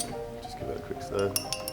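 A spoon stirs gin and fresh pink grapefruit juice in a glass, making quick, light clinks and taps close by over about two seconds.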